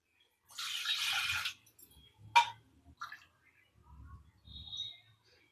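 Water pours into a pan on the stove in a short burst for about a second, then a few soft clinks and faint knocks follow in an otherwise quiet room.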